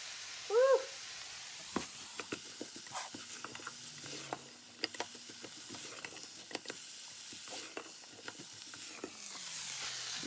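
Chopped red onion is stirred in a pot, with soft intermittent scraping and faint sizzling at a quiet level, plus a brief high voice-like sound near the start.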